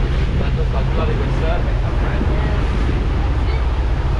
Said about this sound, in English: these massive ocean swells that had been rolling in from a storm that had happened a week or two before